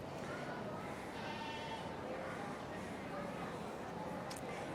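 Goats and sheep-like bleats rise now and then at a goat show ring, mixed into a busy, steady crowd murmur with people talking throughout.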